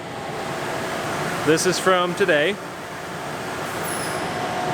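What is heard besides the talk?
Kern machine running while making Saga pens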